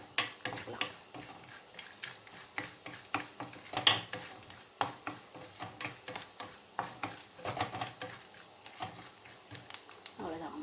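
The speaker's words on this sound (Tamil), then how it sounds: "கொஞ்சம் நெய் விட்டு முந்திரி, பாதாம் வறுத்துக்கலாம்." Cashews and almonds fry in ghee for a multi-millet sweet kozhukattai, giving off soft continuous sizzling punctuated by frequent sharp ticks and clicks of a spoon stirring against the pan.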